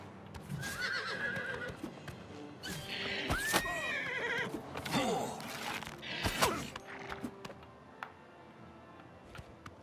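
A horse in the video game The Elder Scrolls IV: Oblivion Remastered whinnies loudly several times, close by, amid hoof clip-clops and scattered clatter, with a rising squeal near the middle.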